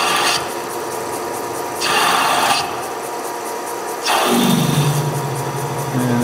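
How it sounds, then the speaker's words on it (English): A machine cuts the spherical ball-seat pivot into a tilting shoe for a Kingsbury bearing, giving three rasping bursts of cutting against a steady mechanical hum. The last burst settles into a lower droning tone. "So this cuts the spherical ball seat, the pivot in this the tilting shoe here."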